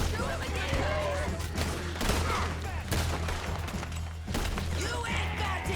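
Red Dead Redemption 2 gunfight: repeated gunshots crack in a steady barrage over rumbling game sound, with voices shouting throughout.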